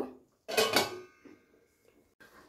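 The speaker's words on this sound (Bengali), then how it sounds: "এবারে আমি আবারও ঢাকা দিয়ে রান্নাটা করে নেব।" A metal lid set down on a pot of chicken darbari gives two bright clanks close together, followed by a faint rattle and a soft clink.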